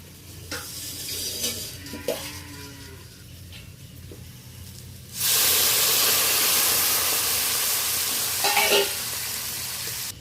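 Water is poured into a pan of frying onions for a spicy hilsa fish curry, setting off a loud, steady burst of sizzling and steam after a quieter stretch of stirring.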